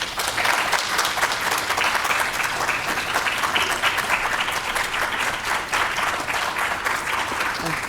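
An audience applauds to welcome the guest speaker at an artist talk, steady and dense clapping from a full room, sustained throughout without pause.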